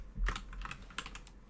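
Quiet clicking of keys on a computer keyboard as someone types code, a rapid run of light taps close to the microphone with no talking.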